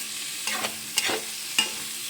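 A spatula scrapes through a frying vegetable dish with coriander in a pan, making three or four distinct stirring strokes over a soft, quiet sizzle.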